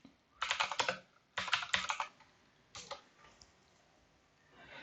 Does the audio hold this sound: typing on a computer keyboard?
yes